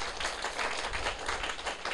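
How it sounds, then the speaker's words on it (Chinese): Audience applause at a Taiwanese political gathering, a steady dense wash of clapping hands sustained throughout without pause, fairly loud and filling the hall. "掌声甲鼓励一下"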